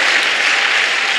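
A church congregation applauds together, a dense, steady wash of clapping that fills the whole short moment at close range, with no talking over it.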